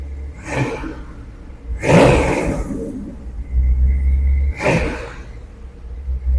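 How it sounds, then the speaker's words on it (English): A supercharged 810 hp LS6 Chevy V8 is blipped three times, with short, loud, roaring revs separated by a lower rumbling idle, heard close up outdoors. "Pat the gas a little bit."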